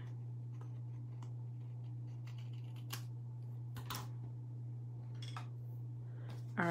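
Scissors snip through a section of card in a few sharp, separate cuts over a steady low electrical hum, close but quiet, with no talking.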